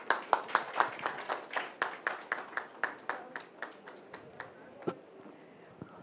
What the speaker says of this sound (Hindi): मुझे लगता है इससे ज़्यादा वाली तालियां बनती थी